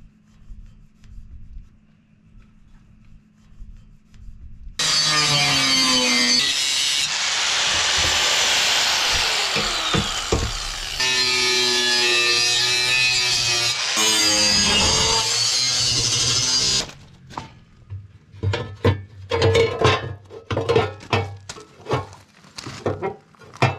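Metal motor cover of a flail mower being notched with a power cutting tool, a loud sustained grinding hiss for about twelve seconds, then scattered clanks and handling knocks.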